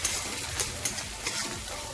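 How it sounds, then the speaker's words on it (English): Ginger garlic paste being stirred in a frying pan, a steady close sizzle with a few soft scraping strokes of the spoon. "I'll put in 1 tablespoon of ginger garlic paste. Mix it"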